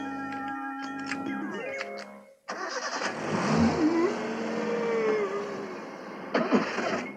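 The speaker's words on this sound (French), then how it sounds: "c'est un moteur turbo à densité variable avec piston rotatif à valve hydraulique" A cartoon turbo car engine cranks and catches, then revs up and down in a long rising, falling sweep, with a sharp blip of throttle near the end.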